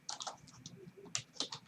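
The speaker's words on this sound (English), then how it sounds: "I'll start typing in the search bar" Quick, light keystrokes on a computer keyboard land as short clusters of clicks, close and fairly soft, entering a search in a mapping web application.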